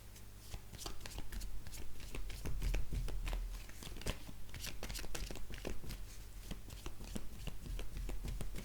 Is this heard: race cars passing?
no